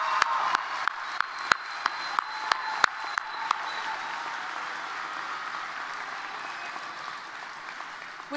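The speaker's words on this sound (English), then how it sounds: "let's give our graduates one final round of applause." A large commencement crowd in a big hall applauds the graduates, a broad, steady roar of clapping heard from a distance, with a few close sharp individual claps standing out early on before it evens out.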